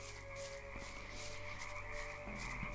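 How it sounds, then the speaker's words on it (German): Frogs croak in the video game Gothic, a steady layered chorus of low, repeating croaks with a few soft thumps, quiet and without talk. "die Frösche kommen näher"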